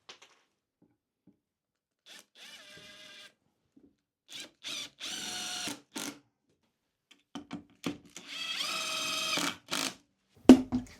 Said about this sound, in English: then I can drive some screws up from underneath to lock it in position